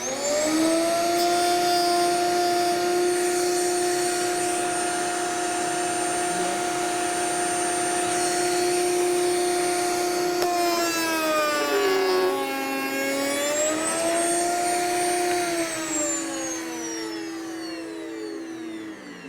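A router spins at high speed, its bits cutting a wooden tenon: a loud, steady whine that holds for about ten seconds, bends and dips in pitch as the cut changes mid-pass, then winds down near the end.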